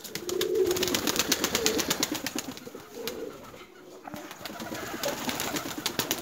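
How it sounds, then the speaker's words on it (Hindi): Fancy pigeons coo in a loft, low murmuring calls repeating close by over a busy background with occasional rustling. "ये फिलहाल ये कबूतर हैं, देखिए"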